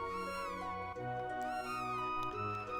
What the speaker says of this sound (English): So, see both cats?